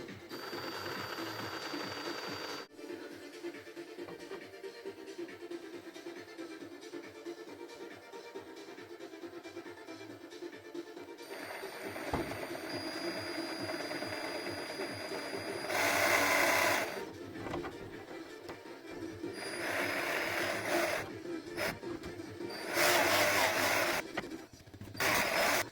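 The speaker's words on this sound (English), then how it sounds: "So I'm going to clean that off with a chamfer drill bit." Chamfer drill bit deburring drilled holes during a Wanhao i3 3D printer upgrade, a motor whirring steadily with several louder bursts of cutting as the bit bites into each hole.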